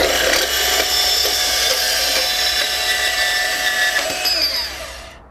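DeWalt 20V Max DCS374P2 cordless deep-cut band saw cutting through 1 inch EMT conduit, a loud continuous close-up metallic whine and grinding that runs steadily for about five seconds before winding down, with no talk.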